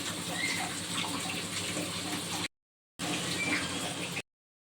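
Water pours steadily in a rushing, splashing stream, stops briefly, then pours again before cutting off.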